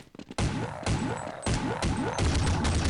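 Rapid, dense gunfire in Counter-Strike Xtreme V6 zombie mode on de_dust2, a loud continuous fusillade of automatic weapons with crashing impacts, starting after a few scattered shots and running unbroken throughout.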